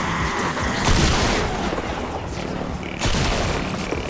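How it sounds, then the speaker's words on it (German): Shotgun blasts in the video game Fortnite, loud booming shots with a couple of heavy reports amid dense in-game gunfire and explosion noise, no one speaking. "Oh, die Shotgun ist super. Guck, ob ich damit Pitcher runterkippe mit einem Schuss."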